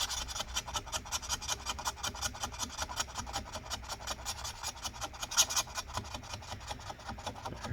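A metal tool scrapes adhesive residue off the inside of a 13-inch MacBook Pro A1708 during a battery replacement, making quiet, close, rhythmic rasping strokes that repeat at an even pace with no voices.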